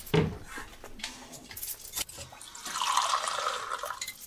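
Water is poured into a glass, a bubbling splash that swells over a few seconds after some faint clinks, with no voices over it.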